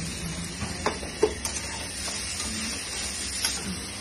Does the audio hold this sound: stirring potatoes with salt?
yes